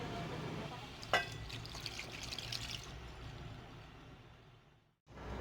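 A glass of water poured into a cooking pot while making chicken karahi, a soft steady pouring and trickling wash that runs for several seconds, then cuts off briefly and resumes.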